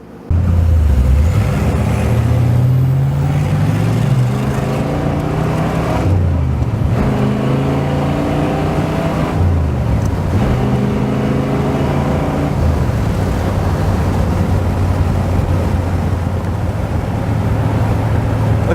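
A 1969 Corvette with a 427 engine and four-speed gearbox cruises on the road, its loud, deep engine drone rising and falling through gear changes, heard steadily and close without talk.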